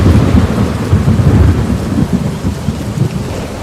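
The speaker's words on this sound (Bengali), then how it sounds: "ওধারের মাঠে তাল গাছের মাথা ঝলসে দিয়ে বাজ পড়ে।" A storm sound effect of continuous loud rumbling thunder rolls over steady heavy rain, dense and close with no pauses.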